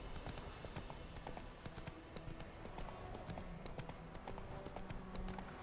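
Steady clip-clop of horse hooves at a trot in the video game The Witcher 3: Wild Hunt, continuous and fairly close, with a faint ambient backdrop.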